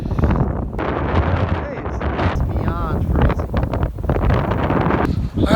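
Strong cold wind on a Connecticut beach by Long Island Sound where people surf, roaring and buffeting a nearby microphone continuously, with a person's voice heard over it.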